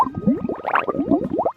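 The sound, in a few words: pet spewing ink sound effect in Roblox Epic Minigames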